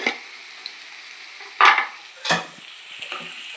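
Onions frying in a pan give a quiet background sizzle, broken by a few sharp scraping stirs and utensil knocks.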